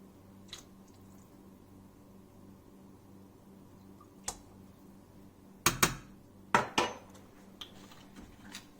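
A spoon clinks against a pot as Norwegian onion soup with apple cider vinegar is stirred, a few sharp scraping knocks over a quiet background hum.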